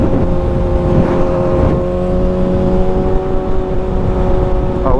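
A motorcycle engine drones steadily while riding, with constant loud wind rush and road noise and a brief rising whine near the end.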